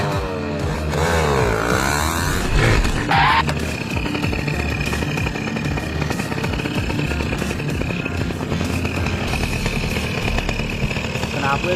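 A motorcycle engine runs continuously during testing, a loud, steady buzzing drone with a brief rise in revs early on, as people talk nearby.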